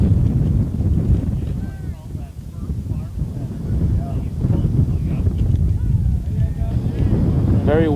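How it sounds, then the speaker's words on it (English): Strong gusts buffet the microphone at an outdoor high school baseball game, a constant loud low rumble and flutter filling the whole stretch, with faint voices partly buried beneath it. "Very windy, as you can probably tell."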